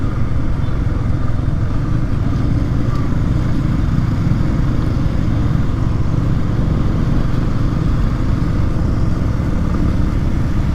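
A motorcycle engine runs steadily on a wet road in Ruteng just after rain, a continuous low rumble with no breaks and no talk over it.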